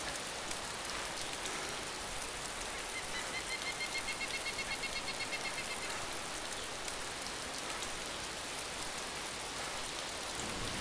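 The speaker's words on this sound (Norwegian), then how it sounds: "Oh, det regner verre igjen." Steady rain in a video game, a dense, even patter of drops hissing across the whole clip at a constant moderate level, with no voices.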